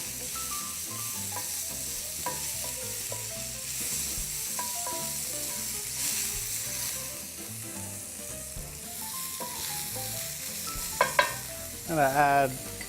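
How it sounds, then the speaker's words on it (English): Butter sizzles in a pan alongside a Hamakua mushroom steak with a continuous close frying crackle, a few stirring scrapes, and louder bursts toward the end. "I'm going to add a fair amount of butter, because butter and steak are so good together."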